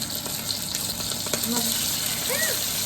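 Fish frying in hot oil in a pan, with steady close sizzling and small pops of spattering oil, continuing throughout with brief faint sounds of movement nearby.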